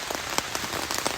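Steady, close rain patters without a break over an Appalachian Trail tent campsite, a dense hiss with scattered louder drops.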